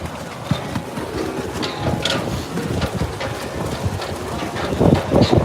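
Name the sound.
wind at outdoor RV show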